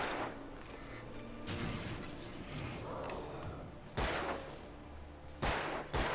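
Gunshots ring out in the video game Alan Wake, with sharp loud bursts near the start and several more toward the end over a busy background of game sounds.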